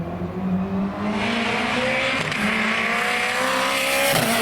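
A tarmac rally race car drives past on the track at a Perth event, its engine a loud sustained roar that rises and falls in pitch as it goes by, with a brief squeal of tyres.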